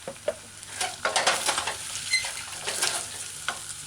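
Pepper steak with onion stir-fried in a pan, a run of crisp, uneven scraping strokes and bursts of sizzle, close and moderately loud, with no voices.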